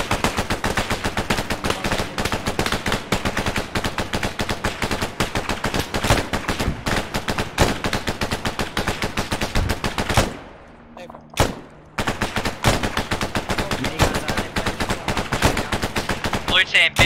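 Heavy automatic gunfire rattles almost without pause in Arma 3, loud dense bursts that briefly drop away near the end before the shooting resumes just as hard.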